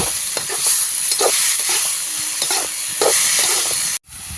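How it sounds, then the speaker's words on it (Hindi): Radish greens sautéing with garlic in a pan for a Pahadi mooli sabji, a steady close sizzle and hiss with scraping stirs throughout, cut off abruptly near the end. "अब हम साग को भी डाल देंगे साथ में भुनने के लिए। 1 मिनट तक साग को अच्छे से भून लेंगे।"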